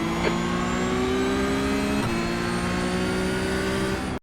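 Porsche 992 GT3 Cup engine at Circuit Zolder in the iRacing sim, a loud steady drone held at high revs with one brief gear-change blip near the middle, no voices.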